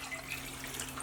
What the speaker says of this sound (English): I'm going to add 2 more cups of water.